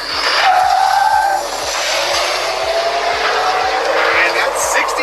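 A Hummer accelerates hard from a standstill to 60 mph, with a loud, sustained whooshing roar of tire and wind noise and a steady pulsing low rumble, close and continuous throughout, with faint voices mixed in.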